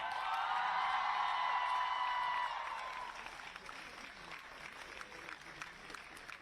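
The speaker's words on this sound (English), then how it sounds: "Please welcome with a big round of applause, Akshata Sharma." A crowd at a fashion institute graduation ceremony applauds, a dense wash of clapping with a few whoops that starts loud and then tapers to a softer, thinner patter.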